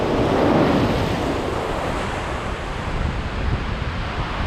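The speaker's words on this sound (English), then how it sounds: "all the waves and stuff coming in here, and shooting up into there" Ocean waves surge into a sea cave at Benagil in the Algarve, Portugal, a loud continuous roar of churning surf and spray with wind buffeting the microphone, rising a little early on and then holding steady.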